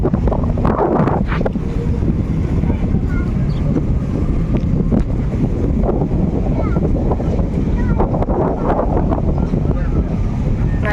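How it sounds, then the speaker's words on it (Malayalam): Strong gusty wind buffets the microphone on the open waterfront near Ain Dubai, a loud continuous rumble with muffled voices and surf beneath it. "നല്ല കാറ്റുണ്ട് കേട്ടോ."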